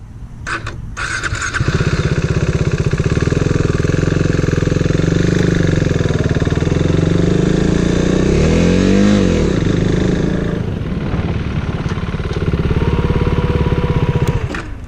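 A motorcycle engine revs up hard and loud as gears are shifted with the clutch pulled in and the throttle held open, its pitch climbing and sweeping before dropping back, alone with no talk.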